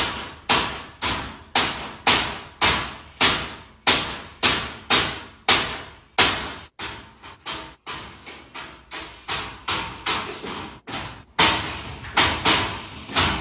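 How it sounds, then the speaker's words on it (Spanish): Home door being forced and broken down, a long run of loud, rapid battering blows with brief pauses, hits sometimes falling in quick pairs, close and harsh. "Están destruyendo la puerta."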